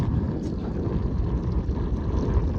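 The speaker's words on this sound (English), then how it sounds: "Oh, it's very windy." Constant low buffeting of wind hitting a microphone on a boat while bass fishing, a dense rumbling roar that never lets up.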